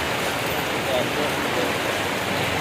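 Rain falling in Ratnagiri during a stormy spell, a steady broadband hiss that stays even and fairly loud throughout, with no clear voices over it.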